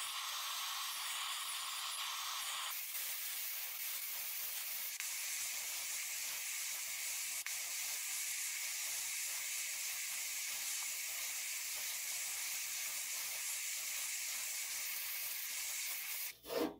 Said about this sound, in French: Et on commence le tout à l'aide du chalumeau